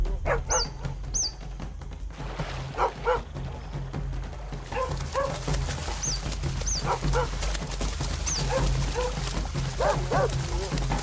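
Feral dogs bark and yip in short bursts at otters in Sungai Buloh, a mix of sharp barks and whimpers at moderate distance, with a narrator speaking over them and birds faintly audible.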